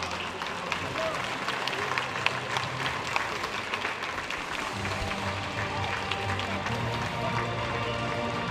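A crowd at the opening ceremony of a 24-hour event at a school claps continuously, a dense wash of applause with some cheering, while a voice speaks over it partway through.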